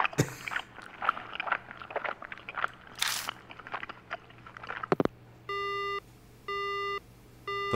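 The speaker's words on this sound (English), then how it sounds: "The line goes dead." Phone line going dead in the horror video game Death Mark: faint crackling, gum-chewing-like noise gives way to a steady repeating busy tone, three loud electronic beeps in even rhythm.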